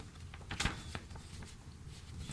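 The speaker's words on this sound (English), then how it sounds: "and I'm going to crease it" Folded paper being creased flat by hand gives faint, close scraping and rubbing swipes with a couple of brief crisp snaps, quiet and without speech.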